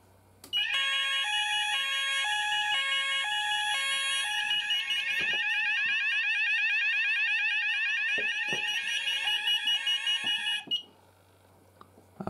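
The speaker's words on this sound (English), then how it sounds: "the Alarmsense optical smoke detector with a sounder, beacon, and base" An Apollo Alarmsense optical smoke detector with sounder, beacon and base sounds off for about ten seconds as a loud, steady, close electronic alarm tone with an alternating warble, then cuts off abruptly.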